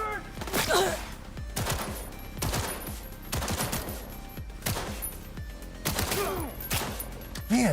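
Gunfire from a weapon in Cyberpunk 2077, with repeated bursts of shots and sharp impacts spread across the whole span, loud and close, with brief game effects in between.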